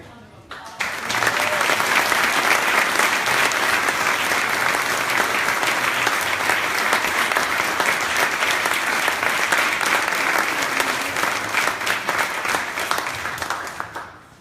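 Audience applause at a museum gallery talk, starting abruptly and holding as a dense, even roar of clapping for over twelve seconds before tapering off, with some voices mixed in.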